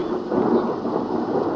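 Deep, low thunder rumbles steadily, like a storm effect, with a broad hiss of rain-like noise, close and fairly loud, without any voices.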